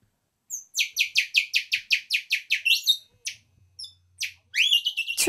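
An elderly man whistles in imitation of birdsong, a rapid run of about fifteen sharp chirping notes, then a few scattered peeps and a final burst of rising warbles, close and clear with no talking.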